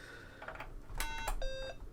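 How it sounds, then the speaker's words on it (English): An Acorn computer fitted with a Plus 1 expansion gives a double electronic beep, two short tonal bleeps in quick succession, near and fairly clear over faint background hum. "In fact, we had a double beep then, which is unusual."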